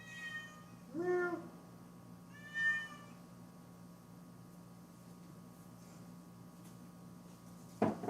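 Rosie the cat meows three times, a clear call followed by two softer ones, over a quiet indoor hum with a small knock near the end.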